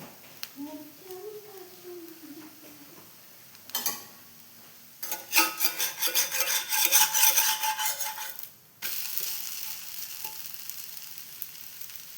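Dosa cooking on a hot pan rubbed with coconut oil gives a steady sizzle. It swells loudly for a few seconds midway, then settles to a softer constant hiss, with brief scraping or clattering before it.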